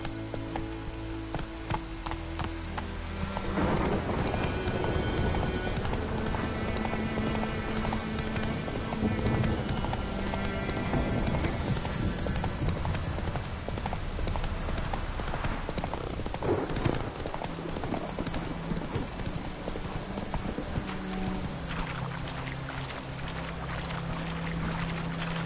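Roach the horse galloping in The Witcher 3 on PS5, a steady rapid clip-clop of hooves running continuously over game music and ambient sound.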